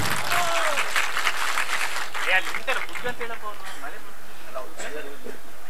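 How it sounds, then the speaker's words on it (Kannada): Audience clapping at an outdoor comedy show in the rain, moderate applause heard under a voice speaking loudly throughout. "ಇವ್ರ ಕಡೆಗೆ ಒಂದು ಚಪ್ಪಾಳೆ ಇರಲಿ ಬಂಧುಗಳ."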